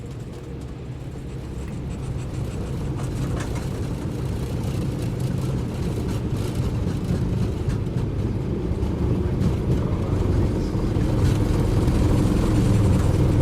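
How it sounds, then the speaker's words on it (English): Aircraft engine in Microsoft Flight Simulator 2024 throttling up for takeoff from a runway, a broad steady roar that grows gradually louder over the whole stretch, with no one talking. "We're sitting on the runway, and now it's just a matter of us taking off and getting going."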